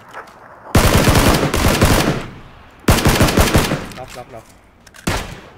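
Automatic gunfire in the game PUBG rips out in three loud, close bursts, the first two long and the last short, with brief quieter gaps between them and a single spoken word.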